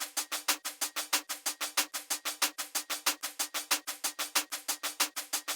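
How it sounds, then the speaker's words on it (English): A fast, steady hi-hat and percussion loop of bright, crisp ticks, evenly repeating at a quick rhythm, loud and close with nothing else underneath. "I found this hat and percussion loop, and it sounds like this."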